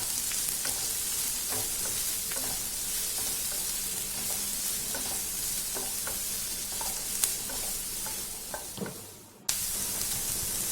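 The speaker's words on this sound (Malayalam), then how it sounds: "ഒരു വലിയ സവാള ഏകദേശം ഈ ഒരു സൈസിൽ അരിഞ്ഞത് ഇട്ട് കൊടുക്കുക. എന്നിട്ട് ഒന്ന് നല്ല പോലെ വഴറ്റിയെടുക്കുക" Chopped large onion sautéing in a hot pan, a steady close sizzle with repeated scraping stirs throughout, with a short clatter near the end.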